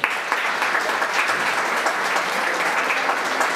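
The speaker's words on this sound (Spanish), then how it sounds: "pedimos un fuerte aplauso" Steady, dense applause from a crowd, clapping continuously at an even level throughout without any break.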